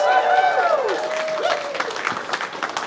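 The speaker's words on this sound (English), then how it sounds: "Let me give a round of applause." An audience at a live fan-convention broadcast gives a round of applause as guests come up, a busy patter of clapping with voices and a brief tonal call sounding over it near the start.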